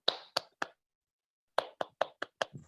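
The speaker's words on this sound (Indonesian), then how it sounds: "tepuk tangan dulu dong" Scattered hand claps from a small seated audience at an Indonesian product presentation, three sharp claps, a pause of about a second, then a loose run of five or six more, close and moderately loud.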